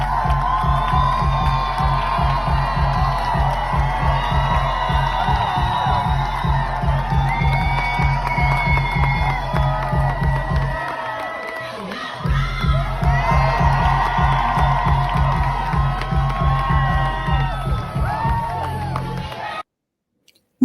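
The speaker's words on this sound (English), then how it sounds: "I want to show you this crowd because this is sad. Look at how small this crowd is for this rally." A large crowd at an AOC and Bernie Sanders political rally roars and cheers steadily with whoops and shouts over a rhythmic low backing beat, then cuts off abruptly near the end.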